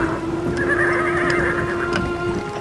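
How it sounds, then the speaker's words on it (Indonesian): A horse whinnies clearly in an animated tale of an orchard owner, a long wavering neigh over hoofbeats and a steady tonal hum, with wind and cold weather nearby. "Ayo kuda malas, ini kurang cepat. Berhenti berlari seperti itu."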